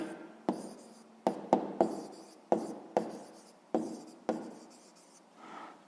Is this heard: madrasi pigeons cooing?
no